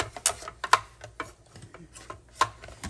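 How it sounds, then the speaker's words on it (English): Mini Stampin' Cut and Emboss die-cutting machine being handled, giving a series of sharp, close clicks and light knocks at an irregular pace with no voices. "we're going to be getting a mini Stampin' and Cutting Emboss machine"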